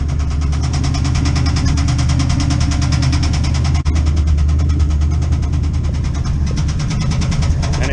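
Chevrolet C10 truck engine with a failing number 8 piston striking the head, idling loudly and steadily with a rough, rapid knocking rhythm running throughout, heard close in the engine bay.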